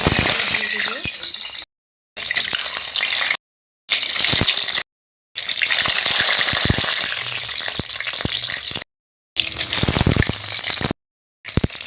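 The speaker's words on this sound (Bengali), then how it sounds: "এই যে তেলটা গরম হয়ে গিয়েছে এবার ডিমগুলো দিয়ে দেব" Eggs sizzling as they drop into hot oil in a wok, a loud close crackling spatter that comes in stretches broken by short silent cuts.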